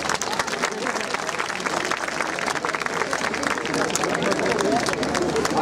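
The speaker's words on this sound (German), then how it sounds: "Ein Applaus für Didem Ünsal." A crowd at a German-language solidarity event claps loudly for a visiting Turkish lawyer, with dense, fast, sustained applause filling the room close to the microphone and faint murmuring mixed in.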